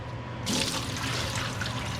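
Hominy broth pours out in a steady gushing stream, splashing loudly into a container or sink for a couple of seconds.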